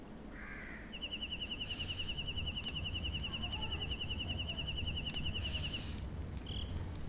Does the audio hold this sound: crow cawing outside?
yes